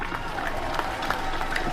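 Crowd applause for a county governor at a universal health coverage conference, dense continuous clapping from a large audience heard alone and fairly loud.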